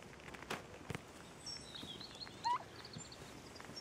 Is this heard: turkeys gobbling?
yes